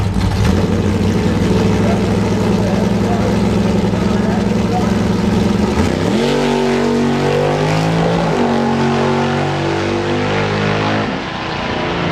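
A 1967 Dodge Dart drag racing against a Tesla at a drag strip, a loud, steady engine roar that shifts pitch midway as it climbs through gears, with an announcer talking over it.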